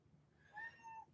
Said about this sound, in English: What is it, Cat? What are you crying for